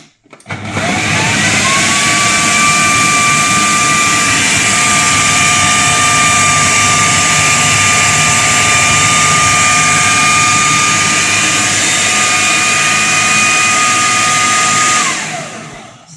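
A food processor fitted with a regular chopping plate chopping mushrooms: a loud, continuous high-pitched motor whine running steadily for about fifteen seconds, then cutting off.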